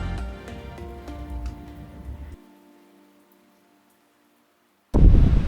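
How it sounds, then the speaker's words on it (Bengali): A storm of heavy rain and gusting wind sweeps over the sea at Kuakata beach, a dense roaring wash that cuts to near silence, then bursts back in loud and close. "রীতিমতো ঝড় বৃষ্টি আর তুফান দেখতে পেলাম সমুদ্রে।"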